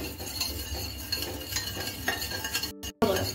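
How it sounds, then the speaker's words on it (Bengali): Spoon stirring sugar and salt into water in a bowl for dhokla batter, a steady scraping swirl with light clinks against the vessel, close and alone. "চিনি আর নুন ভালো করে গলিয়ে মিশিয়ে নিচ্ছি"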